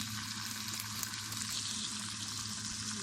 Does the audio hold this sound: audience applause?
no